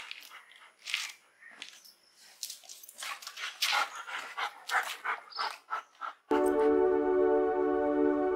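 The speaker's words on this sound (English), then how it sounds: "today I'm gonna go walking with my dog right there, Roney." Dog on a morning walk at Dudhnoi College, heard close with bursts of panting, snuffling and small whimpers, followed near the end by a sudden loud, steady tonal drone.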